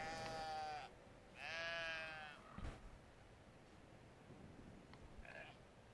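Sheep in the video game Brothers: A Tale of Two Sons bleat in two loud, wavering calls near the start, followed by a fainter bleat toward the end, with no talk.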